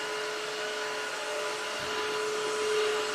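A Tineco Floor ONE S3 Breeze cordless wet-dry floor cleaner runs steadily on hardwood floors, a loud continuous motor whine and suction hiss with a sharp tonal hum, alone and unbroken throughout.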